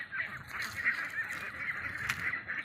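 Ducks of several breeds on a farm in the evening, let out to graze on grass, give a continuous chorus of overlapping honking calls, fairly close and steady throughout.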